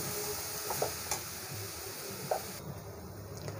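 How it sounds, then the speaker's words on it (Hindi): Roasted semolina stirred into a coconut mixture in a pan for coconut-semolina laddoos, a continuous close scraping and sizzling with a few sharper spoon taps on the pan. "सूजी हमने पहले ही भून के रखा था और इसे अच्छे से मिक्स करेंगे।"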